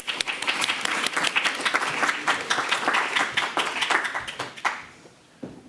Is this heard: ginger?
no